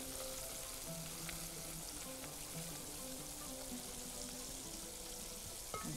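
Fish cooks with curry in a pan, giving a faint, steady frying hiss with soft bubbling, heard alone with no talk.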